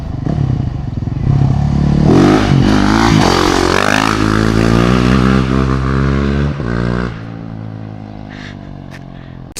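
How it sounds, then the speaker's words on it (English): Yamaha WR450 four-stroke single-cylinder motorcycle engine revving up close, a loud rough roar that climbs and falls in pitch through several blips before settling back to a lower idle. "since the WR is a 4-stroke single cylinder, it's not going to have the same kind of beautiful sounds we've heard from our other bikes"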